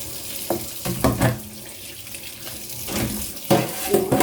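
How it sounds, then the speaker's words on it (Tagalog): Tomatoes washed under a running kitchen tap, with water splashing and gushing in uneven bursts as they are handled in the sink, loud and close. "So, hugasan natin yung ating kamatis."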